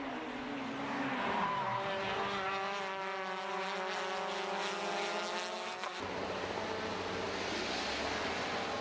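Peugeot 206 race cars scream past on a circuit, a high-revving engine note rising and falling through gear changes before cutting to another car droning at a distance.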